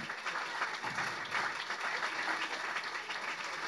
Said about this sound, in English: we talked about rounds of applause. We gotta hit it up for her.